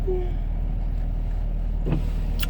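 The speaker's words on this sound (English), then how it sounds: "I hope my car isn't too loud. I'm trying to warm it up before I get going." A car engine idles steadily while warming up, a constant low rumble with a brief high squeak near the start and a faint clunk near the end, heard from inside or close by with no talking.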